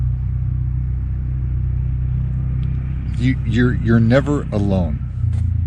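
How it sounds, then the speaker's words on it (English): A quad or side-by-side drives past on a nearby woodland trail, heard as a steady low engine rumble throughout while a person talks over it. "somebody's driving by with a quad or a side-by-side or something like that."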